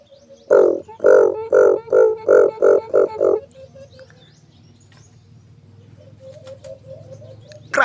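Pigeons in flight training beat their wings in a quick run of about eight loud, close flaps, followed by quieter rustling and faint background sound.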